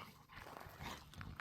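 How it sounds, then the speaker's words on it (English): Dogs playing outdoors on a spring walk are heard faintly and at a distance, with a few soft barks and scuffling movements over quiet background noise. "Dogs are having fun playing,"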